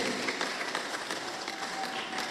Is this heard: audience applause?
yes